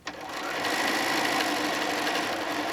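Sewing machine stitching across a quilt, a steady close whirring buzz that starts abruptly and runs without pause for a few seconds.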